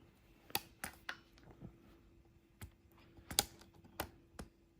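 A few sharp, faint plastic clicks come as a part snaps into a compact Sainlogic 6-inch cordless mini chainsaw, scattered taps and snaps in an otherwise quiet room.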